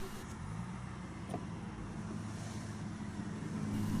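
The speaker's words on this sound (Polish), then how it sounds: "odpalimy silnik no i obejrzymy, usłyszymy co napędza nową Corollę?" A 2013 Toyota Corolla's 1.6-litre petrol engine idles with the bonnet open, giving a steady low hum that holds at an even level for the whole stretch, with no talking.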